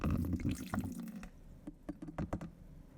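Tap water running into a jug to make a diluted bleach solution, a close splashing gush that stops partway, followed by a few scattered drips and knocks.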